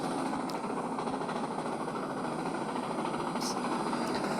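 Steady mechanical rumble of a video game steam locomotive with a continuous hiss, a few faint high-pitched chuffs and clanks riding on top throughout.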